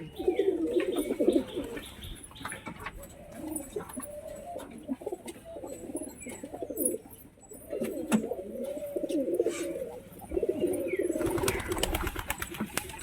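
Pigeons, including a bottom-tumbler pair kept in a loft, coo repeatedly in soft, throaty rolling phrases at close range, with brief chirps, flutters and rustling between calls.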